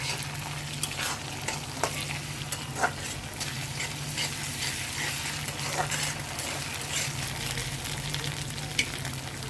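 Ginger paste frying with onions in a pan, a constant soft crackling sizzle with occasional scraping taps of a spoon stirring, steady throughout with no voices.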